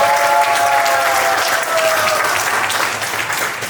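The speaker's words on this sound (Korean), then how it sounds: "이 시스템을 만들어주신 조민님께 다시 한번 큰 박수 부탁드립니다." An indoor audience at a science organization's tenth-anniversary event applauds a system's creator, a steady wash of many hands clapping throughout, fairly loud and close, with a faint tonal whine near the start.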